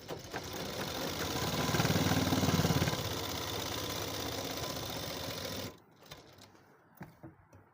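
A sewing machine stitches a seam on a heavy-size suit, a steady rapid whirring run for several seconds before cutting off, leaving faint handling sounds.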